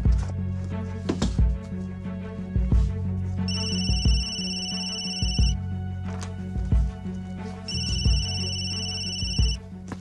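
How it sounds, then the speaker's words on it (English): A telephone rings in repeated bursts, each a steady electronic tone that sounds for about two seconds and then pauses, heard over a busy background of music and thuds. "Tere, please pick up the phone, please."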